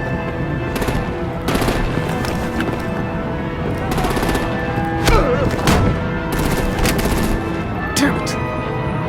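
Gunfire and artillery blasts from the Batman Telltale video game, a dense rattling barrage with repeated sharp bursts and booms over a continuous loud battle din, with voices mixed in.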